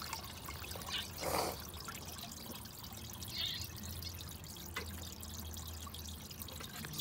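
Partially clogged toilet flushes with a soft splashing pour and gurgle, water trickling and draining quietly throughout, with a brief louder rush near the start.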